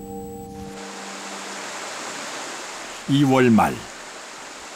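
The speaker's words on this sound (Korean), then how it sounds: "여울 물소리가 생명을 깨웁니다." Water rushing over shallow river rapids in late winter, a steady broad hiss throughout, briefly interrupted by a narrating voice near the end and a short tone at the start.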